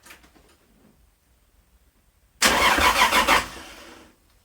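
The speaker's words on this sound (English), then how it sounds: "So the engine cranks." A Toyota MK4 Supra engine cranks over for about a second on a starter motor jumped directly with a cable, loud and close, after a quiet lead-in with faint talk.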